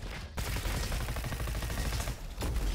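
Raptor SMG gunfire in the video game RoboQuest, a dense, continuous rapid burst of shots that is loud and steady with only brief pauses.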